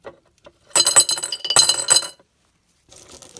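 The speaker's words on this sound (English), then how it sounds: "put some rocks in the base of the jar" Rocks clatter and clink loudly into a glass jar in two rattling pours, followed by a faint scrape of settling stones.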